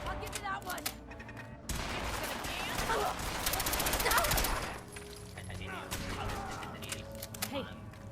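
Laser turrets in Fallout 4 fire rapid bursts of energy shots over several seconds, loud and dense, with a voice talking before and after.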